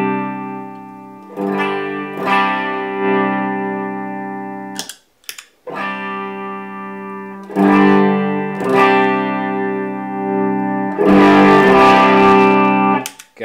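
An electric guitar pushed hard through a cranked Palmetto pedal into a clean amp, loud and saturated, rings out in strummed chords with brief gaps and hard-hitting accents.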